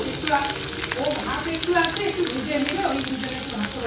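Garlic dropped into a little hot oil sizzles steadily in a pan, a continuous frying hiss running beneath a person's talking throughout.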